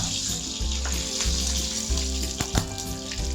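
Dried red chillies and mustard seeds sizzle steadily in hot oil for a Kerala-style beef curry, a close, continuous frying hiss with a few sharp pops and crackles near the end.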